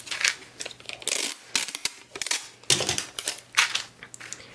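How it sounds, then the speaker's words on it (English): Scissors snip through a paper pattern piece for an 1876 toddler's dress in a run of crisp, close cuts. The paper crinkles and rustles between the irregular snips. "I will start cutting up my pattern piece."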